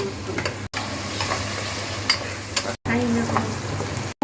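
Onions fry in a pan for a duck curry, a close, steady sizzle with stirring scrapes, broken by two brief complete dropouts; no one speaks.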